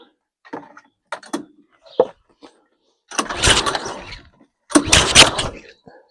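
A GT Rider 196T scooter with a freshly replaced belt is cranked, its small engine giving a few short sputters before two longer bursts of rough, loud turning over, without clearly settling into an idle.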